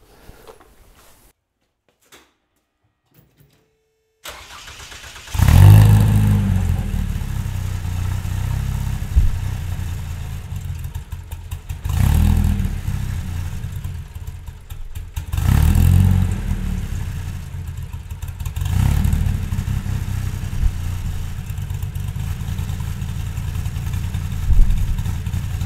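A Toyota 1AR-FE engine in an MR2 Spyder starts after a few seconds of near silence, then idles loudly and surges through several repeated revs toward 8200 RPM, close and steady with no talking.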